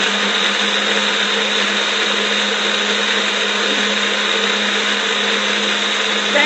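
A blender with flat blades blending orange chia ginger pudding, giving a loud, steady, high-pitched whir close by that runs without a break, with no talking.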